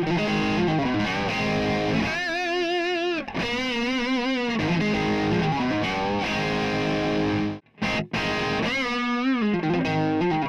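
Distorted electric guitar through a Mooer GE Labs amp profile plays riffs and sustained bent, vibrato notes, loud and close, with a brief gap near the end.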